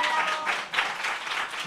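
Brief burst of audience applause at a comedy show, fairly loud with uneven, swelling clapping over about two seconds and a faint voice mixed in.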